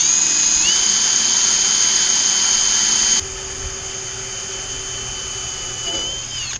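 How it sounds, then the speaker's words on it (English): A power drill whines at a steady high pitch drilling a pilot hole for a gate operator, spinning continuously and dropping slightly in load partway through before running on. "I can drill that hole."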